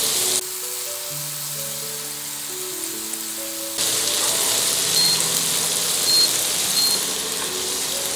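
Onion dropped into a hot pan starts a sudden, loud, close sizzle partway through that carries on steadily after a stretch of quieter tones.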